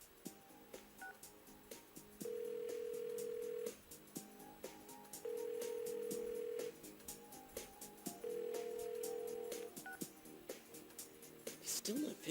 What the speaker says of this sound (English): Hang on a sec, I'll try calling again.